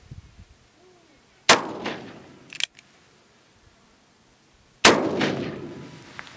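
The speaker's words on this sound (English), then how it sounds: "Now I'm going to shoot a 44 Special and then 44 Mag, just to show as a comparison." Two sharp, loud gunshots come several seconds apart, a .44 Special and then a .44 Magnum loaded with black powder sugar substitute. Each blast rings and decays briefly, and a small metallic clack follows the first shot.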